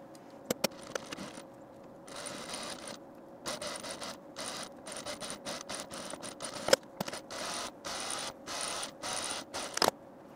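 A home sewing machine stitches across a blouse placket, running right over the pins, in short bursts of mechanical whirring and clicking with brief pauses and a few sharp ticks, fairly quiet and close.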